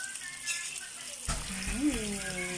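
Shrimp dropped into a pan of garlic frying in butter, a sudden burst of sizzle that keeps crackling close by, with a voice talking over it.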